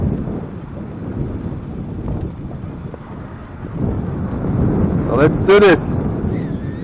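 Outdoors, wind gusts buffet a small SANROCK GD65A mini drone, giving a low, continuous rumble that swells in the second half. A high, thin motor whine rises near the end, and someone speaks briefly.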